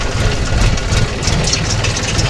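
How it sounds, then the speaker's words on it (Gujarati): A steady, low tractor engine idles close by, a continuous rumbling drone with no talk over it. "આપણે જો આપણું ટ્રેક્ટર લઈને આવી ગયા"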